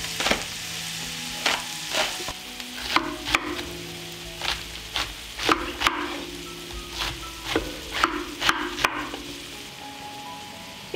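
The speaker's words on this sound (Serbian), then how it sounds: "I sve ćemo promešati i propržiti da omekša." Onion, garlic and vegetables frying in a pan, with a steady close sizzle broken by repeated sharp scraping stirs throughout, and no voices.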